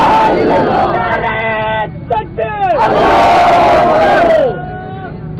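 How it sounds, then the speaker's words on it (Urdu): A crowd chanting political slogans at a rally in Islamabad's D-Chowk, loud massed voices shouting in call-and-response bursts with a brief pause between the chants. "تو یہ جو آپ نے نعرے لگائے ہیں ابھی"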